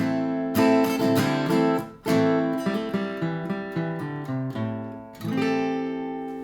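Strummed guitar chords play the closing section of a song, clear and close, with a few ringing strums and short pauses before a final chord rings out.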